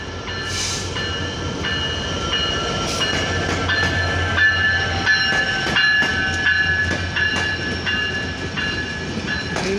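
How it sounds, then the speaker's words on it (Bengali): The down Chilahati Express, hauled by an American-built locomotive 6639, rolls into platform 1 at Saidpur station. It brings a steady rumble, clacking wheels and squealing metallic tones, with a brief horn blast near the start. "চিলাহাটি থেকে ছেড়ে আসা ঢাকাগামী আন্তনগর ডাউন চিলাহাটি এক্সপ্রেস ট্রেনটি সৈয়দপুর ইন করলো 1 নম্বর প্ল্যাটফর্মে আমেরিকান জায়ান্ট লোকো নিয়ে"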